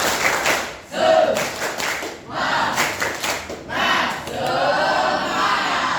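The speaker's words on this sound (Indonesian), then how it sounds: "Kalau Ibu bilang tepuk semangat langsung." A group of schoolchildren performs a rhythmic tepuk semangat clap pattern in bursts of sharp, patterned claps separated by short pauses, ending in a longer stretch of mixed clapping and crowd noise.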